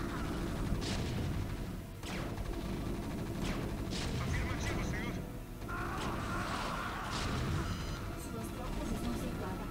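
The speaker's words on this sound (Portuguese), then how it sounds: "Porque ele fica atirando aqui, ó." Units firing in a StarCraft mission, a dense continuous barrage of game gunfire and explosions with sharp bursts layered over a rumbling low roar, under talk.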